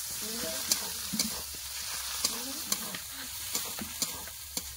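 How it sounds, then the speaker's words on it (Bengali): Chopped tomato frying with ginger and garlic in a pan, a soft steady sizzle broken by light clinks and scrapes of a stirring spoon. "আদা রসুন কাঁচা গন্ধ চলে গেছে, দিয়ে দিচ্ছে টমেটো কেটে রাখা"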